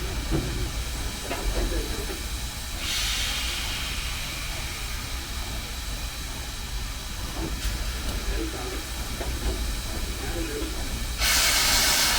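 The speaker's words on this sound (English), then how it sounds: "we do have to slot this locomotive perfectly on our turntable" Steam locomotive 4501 hisses on a turntable, a steady roar of escaping steam with louder bursts at the start and near the end. Faint mechanical clanks sound in between.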